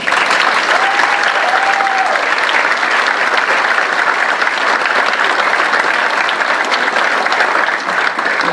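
A large audience applauds continuously at the University of Maryland's 2019 commencement ceremony in Tokyo: dense, loud, even clapping that fills the whole stretch without letting up.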